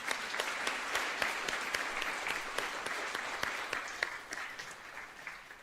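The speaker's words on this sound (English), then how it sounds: "they deserve a big round of applause" An audience at a book awards gala applauds steadily, many hands clapping in a continuous wash heard from a moderate distance, tapering slightly at the end, with no voices over it.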